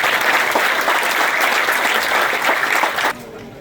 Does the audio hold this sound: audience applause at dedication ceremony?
yes